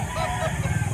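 At a Saturday poultry market in Lipa, Batangas, a Boston chicken gives a short, close cluck over low background chatter.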